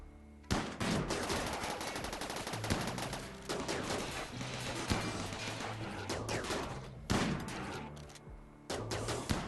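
Gunfire aimed at a turret in the video game RimWorld, dense rapid bursts of shots rattling continuously with sharper louder cracks standing out, no talk.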